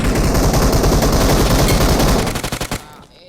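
Sustained machine gun fire in the mobile shooter game PUBG Mobile on the Erangel map, with loud rapid bursts in a dense stream that break into a few separate shots before cutting off.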